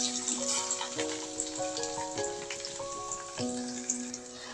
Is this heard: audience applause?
no